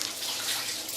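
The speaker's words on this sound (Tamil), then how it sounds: "இப்போ நம்ம எலுமிச்சை பழம் ஊற்றிக்கலாம்." Lemon juice poured into a pot of boiling mutton biryani, a brief steady liquid splash and bubbling hiss lasting about a second, close and moderately loud.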